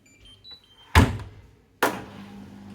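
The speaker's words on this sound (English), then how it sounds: "if I close the door" A Hoover washing machine door shuts with two dull, close thuds about a second apart, each followed by a short rattle and low hum in a quiet room.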